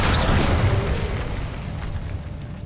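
An Incendio fire spell cast in Hogwarts Legacy bursts with a short whooshing boom that fades into a crackling rumble over a couple of seconds.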